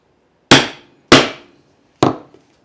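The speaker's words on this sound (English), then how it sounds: "Make sure your hand tool is straight up and down and hammer away." Three sharp hammer strikes on a leather rivet end cap through a hand-held setting tool, two evenly spaced blows then a third after a pause, each a crisp, close, loud crack decaying quickly, with no talking.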